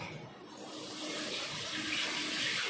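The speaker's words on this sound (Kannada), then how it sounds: "ನೀರು ಬಿಟ್ಟೆ" Water runs steadily from a tap, a continuous close splashing rush that holds for the whole stretch with no voices over it.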